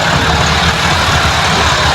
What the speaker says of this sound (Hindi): देखो 4 ट्रैक्टर ये लगे हुए हैं, एक वो मशीन लगी हुई है